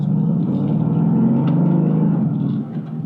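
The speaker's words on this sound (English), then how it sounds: "This is like the baritone of all exhaust systems." A 2016 Mercedes-Benz AMG GT gives a deep, steady exhaust rumble at idle, heard close and loud and continuous throughout, easing slightly near the end, with no talk.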